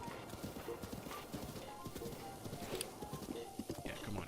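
Horse hooves beat a fast galloping rhythm in Zelda: Breath of the Wild, steady and close throughout, with a brief whinny and no talking.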